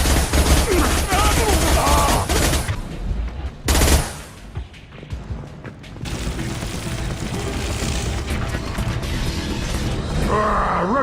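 Sustained heavy gunfire and bursts of automatic weapons roar in a Mass Effect 2 battle, loud and dense with crashing impacts, a short lull, then renewed firing, mixed with voices.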